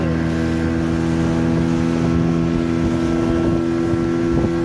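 A steady boat motor drones throughout on a ride across the Chandil Dam reservoir, with strong low hum and wind buffeting the microphone.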